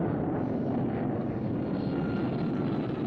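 A small airplane drones overhead with a steady, rumbling propeller engine hum. The noise stays constant and moderately loud, with some wind buffeting and no voices.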